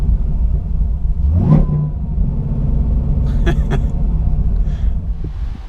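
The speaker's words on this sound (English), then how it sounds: "Here's a neutral rev for you." A Chevrolet Camaro ZL1 V8 engine revs hard in neutral, rising to sharp roars and dropping back to a steady, deep rumble.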